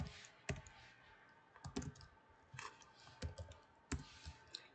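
Light, quiet typing on a computer keyboard, irregular clusters of soft key clicks at close range, with no voices over them.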